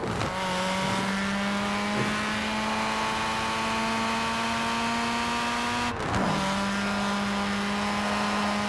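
Nissan Pulsar engine in Forza Horizon 4 droning at steady revs, with sharp shift breaks where the pitch drops and brief pops crackle on the upshifts, loud and close without talk.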